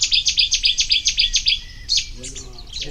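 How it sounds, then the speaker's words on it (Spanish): A loud, rapid burst of sharp, repeated notes from a Cetti's warbler, close by, followed by a few scattered chirps. "Y este ha sido el ruiseñor bastardo."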